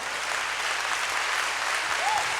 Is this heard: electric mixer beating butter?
no